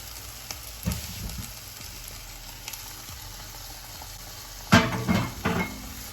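Tomatoes land in a pan of oiled eggplant and burgul and sizzle steadily, with stirring scrapes and pan knocks and a louder clattering burst near the end; no talking.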